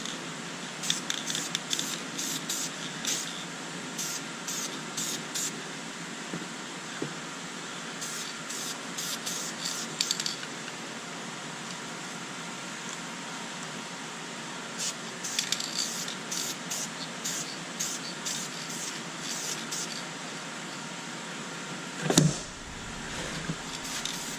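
Aerosol spray paint hissing in short intermittent bursts as a light mist coat goes onto interior car plastic, the spray close and moderate, with a brief knock near the end.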